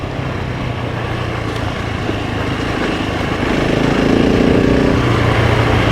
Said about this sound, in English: We're revving it up in my bike.